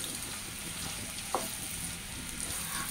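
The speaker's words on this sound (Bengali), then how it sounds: "তো আমি চিংড়ি মাছগুলো হচ্ছে ভেজে নিচ্ছি।" Prawns shallow-frying in a pan for a bamboo-shoot prawn dish give a steady, moderately loud sizzle with a faint clack of a utensil midway, and no voices.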